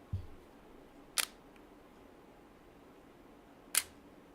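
A DSLR camera set to a 2.5-second shutter speed fires: a sharp clack of the mirror flipping up and the shutter opening, quiet for the long exposure, then a second crisp clack as it closes, both loud against near silence.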